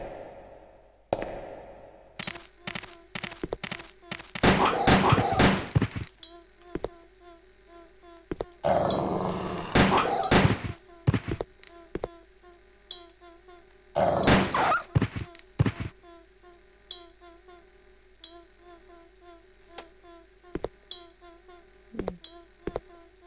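Dogs growling and barking in the survival horror game Resident Evil Code: Veronica X. Snarls and growls come in repeated bursts over a bed of low ambience, punctuated by sharp thuds and several loud, dense clusters of aggressive barking.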